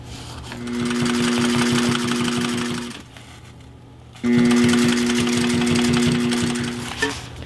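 A sewing machine stitches fabric panels for a DIY chest rig in two loud bursts of rapid, even whirring, pausing about a second in between before running again.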